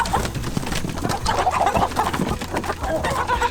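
Rhode Island Red chickens on a homestead cluck and murmur close by in a continuous, uneven chatter of short calls, with some faint voices in the background.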